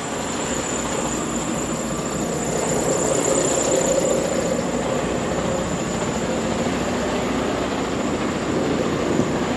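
A truck engine idles loud and steady up close as the rig gets ready to set off for Georgia, a constant low rumble with a thin whine on top, no voices.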